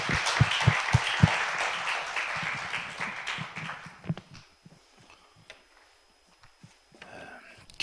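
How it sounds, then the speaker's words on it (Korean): A congregation at a spring revival service in a church applauds in a brief burst of clapping that tapers off into scattered claps and quiet, with sparse rhythmic knocks at the start. "하나님께 박수로 영광 올려드리며 맞이합니다."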